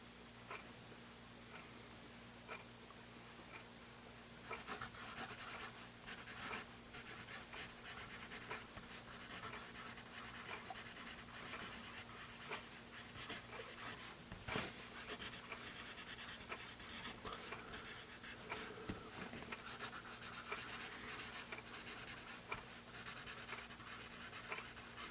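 A Dixon Ticonderoga Laddie 2HB pencil scratches steadily across paper, a close continuous dry rasp of strokes with small ticks, quiet and unaccompanied by voices.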